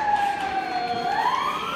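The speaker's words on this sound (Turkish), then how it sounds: "Polis arabaları." Police car siren wails in a short rising and falling sweep, moderately distant over a low background hum.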